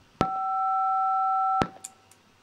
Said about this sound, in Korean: 벨이 울렸습니다.